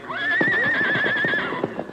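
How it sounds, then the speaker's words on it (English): A white horse whinnies in a long, loud, wavering neigh as hooves clop beneath it, a radio drama sound effect with no talk over it. "Look how that white horse is acting"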